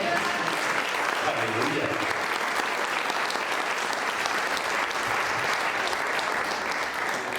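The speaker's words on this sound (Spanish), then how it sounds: "¿Cuántos den la aplauso al Eterno?" A church congregation claps together during a sermon, a dense, even wash of applause throughout, with a voice calling out briefly over it.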